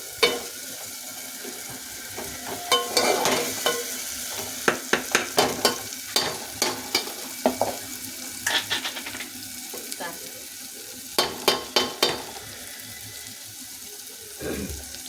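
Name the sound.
food frying and being stirred in a pan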